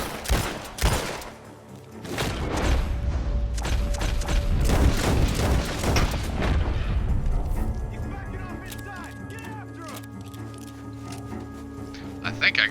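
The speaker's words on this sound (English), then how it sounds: "The gunshot!" Gunfire in Red Dead Redemption 2, a rapid burst of loud shots and booms in a fight against O'Driscolls, followed by quieter game ambience and calls.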